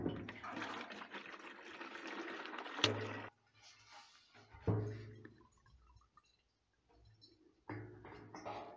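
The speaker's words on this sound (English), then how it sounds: "Let's drain everything back into this bottle." Fuel drains from the gas tank of a Massey Ferguson 231 tractor into a bottle, a steady close pouring gush for about three seconds, then quieter intermittent trickles and splashes with short bursts of flow.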